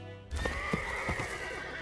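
A horse neighs in a long, loud whinny with a few hoof clops beneath it, close and steady throughout, with no talking. The horse is Shadowfax, the green-white legendary horse from Lord of the Rings ridden by Gandalf the White.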